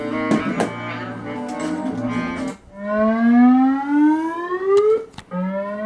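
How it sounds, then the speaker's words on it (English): A loud rising whoop siren sweeps upward through an intercom, following a burst of harsher buzzing tones, then cuts off and restarts. "It does a siren noise now, the whoop noises."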